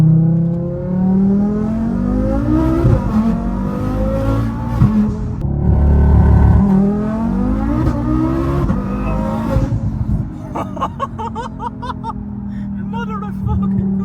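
A 1300 BHP Audi RS3 accelerates hard from a rolling launch on UK roads, its engine note climbing through repeated gear shifts from inside the cabin before easing into rushing road and wind noise.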